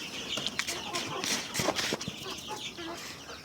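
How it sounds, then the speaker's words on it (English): Chickens on a poultry farm cluck and chatter in a busy, continuous flock sound, with several birds calling at once at moderate distance. "Now we are going to feed the chicken."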